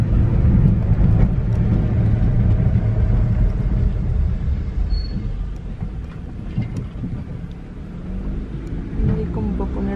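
Road and wind noise roars through a lowered car window as the vehicle drives down a street, a steady loud rumble with rushing air that eases slightly midway and picks up again.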